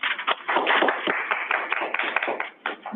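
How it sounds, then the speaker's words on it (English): Applause from an audience for a presenter at a hosted online session, a dense steady patter of many hands clapping at moderate loudness, filling the moment without voices and tapering slightly near the end. "Let's give her a round of applause"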